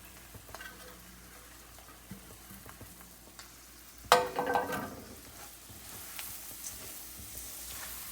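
Spices for a fenugreek and kalonji masala pickle are stirred and mixed while still hot, a quiet scraping and sizzling stir with one louder clattering scrape partway through, close by and without speech.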